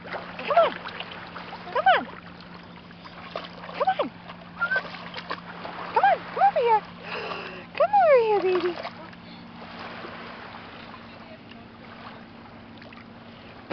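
Splashing of a person wading thigh-deep in cold water alongside a dog, irregular sloshes close by, with a voice calling and coaxing at intervals over the water noise.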